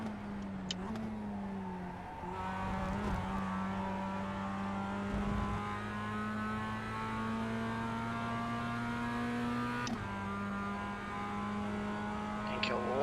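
Mazda MX-5 race cars accelerating out of a corner in an advanced MX-5 cup race, a steady droning engine note that rises in pitch as the throttle opens, with brief knocks and thumps from the cockpit, captured onboard.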